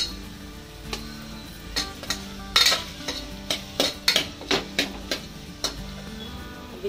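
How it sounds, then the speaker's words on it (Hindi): Sliced onions fry in oil in a pan while a spoon stirs them, giving a low sizzle broken by a series of sharp metallic clinks and scrapes, close and without voices. "इसमें प्याज को हम थोड़ा सा ही लाल करके लेंगे, ज्यादा नहीं।"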